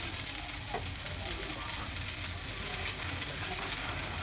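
Andhra-style moong dal pesarattu dosa sizzles steadily in a hot pan just after being flipped, a continuous close frying hiss with no talking.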